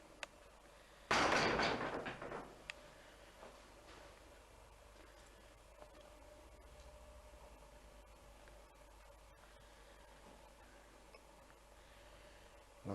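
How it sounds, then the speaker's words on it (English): The inner doors of an old English village church in Blisworth swing open with a single loud clunk and rattle, then the sound fades into a quiet, hushed interior. "The inner doors open wide."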